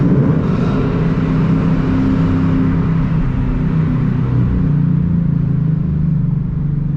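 A loud Mustang GT V8 with a C&L axle-back exhaust burbles and rumbles close by during a downshift, with a brief rev blip and crackling as the engine drops in speed.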